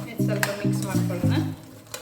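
Village-style country chicken stirred with masala in a pan, close scraping and sizzling under a low humming voice-like drone in short repeated bursts.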